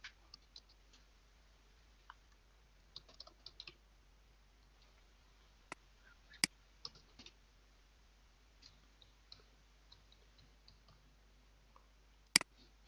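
Light, scattered clicks of a computer keyboard and mouse while an email ID is typed into an online railway application form, sparse irregular taps in a quiet room.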